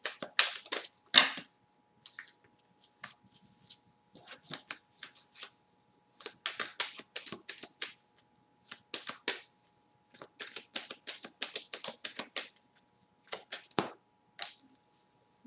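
Tarot cards being shuffled by hand in repeated bursts of crisp riffling and slapping, with brief pauses between bursts and one sharp snap as a card pops out of the deck.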